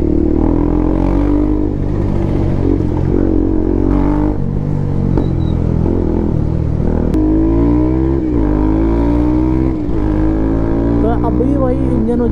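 Two motorcycles, a KTM Duke 250 and a Bajaj Pulsar NS 200, rev their engines with a loud, steady exhaust drone and rising throttle blips during a city ride, and people talk over the sound.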